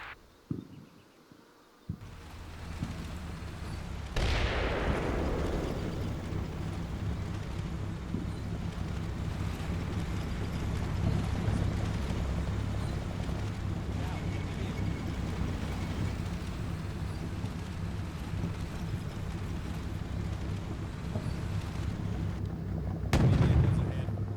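Artillery fire mission in the Cold War tactical game Combat Mission: a sharp blast opens a long, steady rumbling barrage that holds loud throughout, ending with another heavy impact; brief voices before the firing begins.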